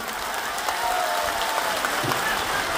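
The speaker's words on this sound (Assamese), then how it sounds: "এটা হাত চাপৰি বজাবৰ বাবে অনুৰোধ কৰো" Sustained applause from a crowd at an outdoor election campaign rally, a dense steady clapping that continues throughout at close range.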